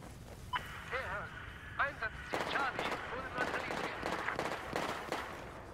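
Repeated gunshots in Battlefield 4 crack out in quick bursts and volleys, fairly loud and close, with people talking over the firing.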